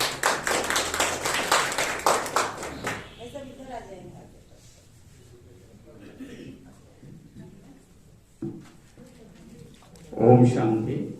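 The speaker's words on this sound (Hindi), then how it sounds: "जोरदार पुरजोर तालियों के साथ स्वागत कीजिएगा" An audience claps to welcome a guest at a Vivekananda Jayanti youth day event at a Brahma Kumaris centre in Jalore. Dense, lively clapping lasts about three seconds, then a voice speaks in a quieter hall.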